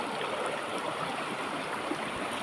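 A stream (sapa) flows steadily nearby, a dense, even rush and gurgle of water with no pauses, loud and continuous with no voices.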